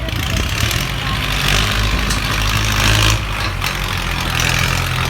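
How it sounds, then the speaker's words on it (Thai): A farm tractor engine labours while pushing down lead trees, a loud continuous low rumble with rising strain in places, heard close up throughout. "เดี๋ยวพามาเบิ้ง รถไถดันก็กระชิ้นหน่อยครับ"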